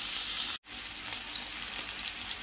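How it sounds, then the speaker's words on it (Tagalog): Ginger and other ingredients sautéing in a little oil for tilapia escabeche, a steady moderate sizzle broken by a brief dropout, no talk. "igigisa na natin yung ating mga ingredients dito"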